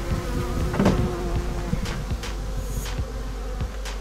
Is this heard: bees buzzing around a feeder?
yes